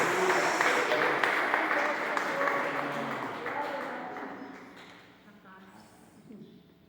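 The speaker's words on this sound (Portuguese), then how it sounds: "Aplauda o Senhor." A church congregation at a Sunday morning service applauds steadily with voices mixed in, the clapping loud at first and gradually thinning and fading out.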